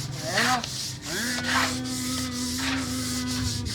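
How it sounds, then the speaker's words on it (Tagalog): New sanding machine runs with a steady abrasive rubbing and a held motor hum, close and fairly loud, with brief shifts in pitch as it works. "Malakas pala lumihan yung bagong machine ni Boy Bulate"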